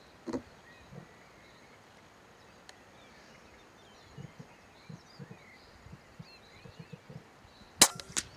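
A single sharp rifle crack near the end of a quiet outdoor evening rabbit hunt, preceded by faint scattered clicks and light rustling with distant birds.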